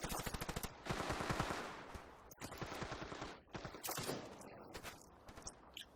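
Rapid gunfire in the Standoff 2 shooter during a tournament match, including shotgun blasts, loud dense bursts of shots in quick succession with brief pauses between volleys.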